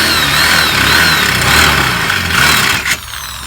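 A power drill drilling a hole for a sliding-door lock whirs steadily at high speed for about three seconds, then winds down abruptly near the end.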